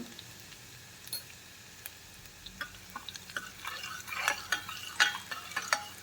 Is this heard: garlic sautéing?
yes